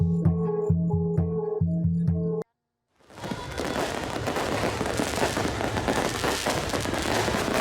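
New Year's Eve fireworks over a crowded roundabout in Palangka Raya, Indonesia: a dense, continuous barrage of crackling bursts and pops after a brief silence, loud and sustained, following a short stretch of music.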